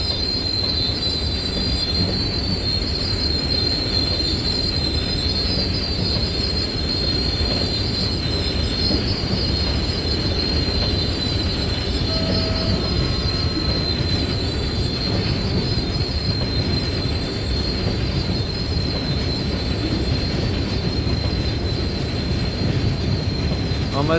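Brakes squeal on container wagons in a train simulator game, a sustained high-pitched metallic whine over a loud, continuous rumble of rolling wheels lasting the whole stretch.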